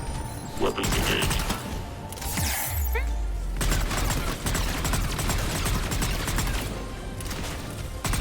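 Weapons fire in Mass Effect 3 during the Omega mission, a dense, continuous barrage of shots and impacts with booming low rumbles, loud and close throughout, mixed with game effects.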